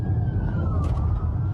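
A police car siren on the Great Alpine Road wails in a slowly falling tone, mid-distance and partly buried under heavy low road and engine rumble as vehicles speed past.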